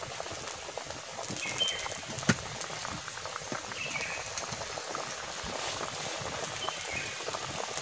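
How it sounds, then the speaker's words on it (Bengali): Curry broth seasoned with turmeric, salt and chili bubbles steadily in a pot, a soft continuous simmering burble with scattered small pops, alone and fairly quiet throughout. "ঝোল ভালো করে ফুটে গেছে"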